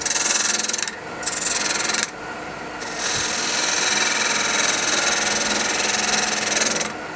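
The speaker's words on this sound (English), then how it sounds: "Fingernail gouge, straight up and down, close as a grind." A fingernail-grind gouge cuts a wooden peppermill blank spinning on a lathe, giving a loud continuous rasping hiss with a few brief breaks where the tool lifts off the wood.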